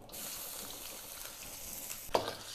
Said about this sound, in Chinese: 花姜末爆一下锅